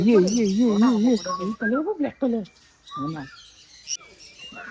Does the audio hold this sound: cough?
no